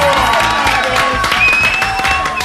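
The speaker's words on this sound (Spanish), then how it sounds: "Fuerte el aplauso para ABCDIN." Studio audience applause and cheering, steady and loud throughout, mixed with crowd noise and background music.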